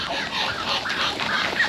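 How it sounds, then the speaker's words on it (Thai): Ducks in a Lao family's backyard in Alabama give a busy cluster of nasal quacks and honks, moderately close, over a steady outdoor background. "ฝั่งนี้มีเป็ดอีก"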